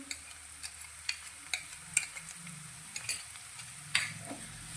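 Quiet sizzling of ginger, chili and garlic paste frying in a pan, punctuated by regular scraping clicks of a spoon stirring it, without any talk.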